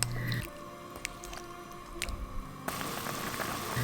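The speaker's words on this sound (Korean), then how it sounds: "보글보글 소리 참 좋지요?" Perilla soup simmers in a small earthenware pot, with soft wet bubbling and popping close by, irregular little bursts and drips over a quiet background, growing louder and denser near the end.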